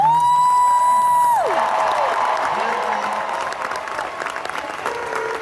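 Concert audience at a show in Las Vegas bursting into loud applause and cheers for the backing singers, swelling then carrying on as dense clapping after a held sung note fades.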